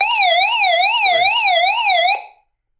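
A loud electronic SOS alarm siren on a portable radio wails up and down in rapid regular sweeps for about two seconds, then cuts off abruptly into silence.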